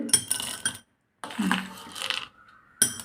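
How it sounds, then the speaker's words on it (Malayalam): Chickpeas drop into a glass in quick bursts of clinking rattles, with a short silent pause between pours, close and fairly loud. "ഇതിലേക്ക് കടലയാണ് കേട്ടോ ഇട്ട് കൊടുക്കുന്നത്"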